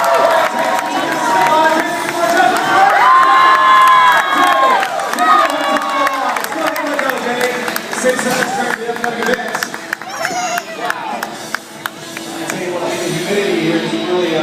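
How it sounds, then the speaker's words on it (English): A crowd cheering and shouting loudly and continuously at a Fear Factor stunt event, with whistles and an announcer's voice talking over the noise. "Make some noise for him, folks"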